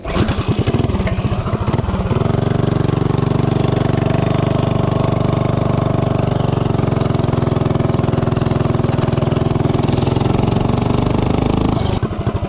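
A Tillotson 212 engine with a 24mm flat-slide carburetor and 3-inch intake blips briefly, then holds a loud, steady, buzzing drone at high revs for about ten seconds before cutting off.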